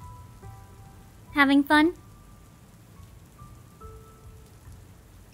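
Soft, steady rain patters faintly throughout a romance video game scene, with low background music and a brief spoken line partway through.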